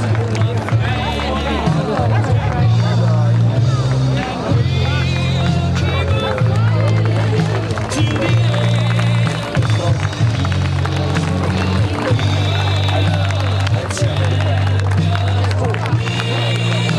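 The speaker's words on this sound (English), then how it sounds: "Please applaud for the winners." An audience at a dog show for veteran black females applauds the winners, with steady clapping and crowd murmur continuing over a loud, constant low hum throughout.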